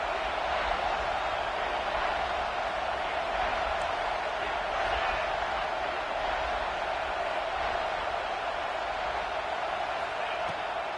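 Football stadium crowd at a Clemson versus LSU game, a dense steady roar of many voices filling the whole span at an even level.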